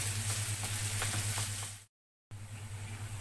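Onion and garlic sizzle steadily in ghee in a pot for an Egyptian okra and meat stew, a loud continuous frying hiss that cuts out for a brief moment and then carries on.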